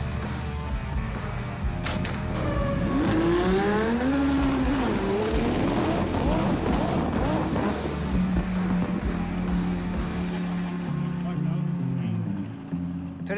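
A race car making a pass at speed, its engine revving loud and close as the pitch sweeps up and down, then settling into a steady drone.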